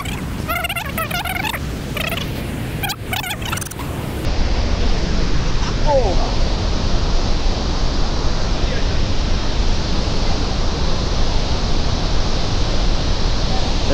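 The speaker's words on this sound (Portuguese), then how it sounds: "Estamos descendo aqui o acesso à Cachoeira São Romão" The São Romão waterfall in Chapada das Mesas roars as a loud, continuous wash of rushing water, growing fuller after the first few seconds, with brief voices early on.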